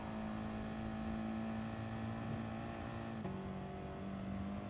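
An Audi TT engine in the racing game Gran Turismo Sport on the Dragon Trail Seaside track, with a steady droning hum that holds its pitch and then shifts to a new pitch partway through, quiet and continuous.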